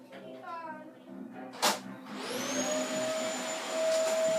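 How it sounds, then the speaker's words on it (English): A household vacuum cleaner starts up, its motor whine rising and settling into a loud, steady drone, with a voice heard briefly before it. "Hoover!"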